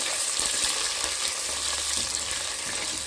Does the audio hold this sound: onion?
yes